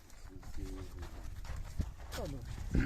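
Percheron horses' hooves clip-clop in an uneven rhythm close by, with people talking over them and a brief horse snort near the end.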